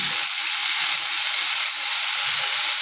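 Capsicum and carrot fry lightly in a pan over a low gas flame, giving a steady, close, continuous hiss and sizzle with no pauses.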